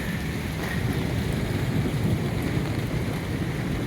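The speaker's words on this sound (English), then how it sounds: "It's raining outside." Steady rain falls outside a shed during a Memorial Day weekend barbecue, a dense, continuous hiss and patter with a low rumble underneath, constant and fairly close, with no talking.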